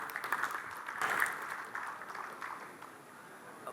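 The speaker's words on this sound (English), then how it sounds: "we should have a great round of applause to that thought" A round of applause from the audience at the inauguration ceremony of a national garment fair, moderate and fairly distant, swelling briefly then tapering.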